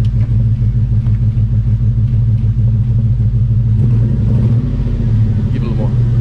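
Revving exhaust of an LS-swapped, bagged Chevrolet C10: a loud, steady, deep rumble that swells with throttle blips, close to the truck throughout.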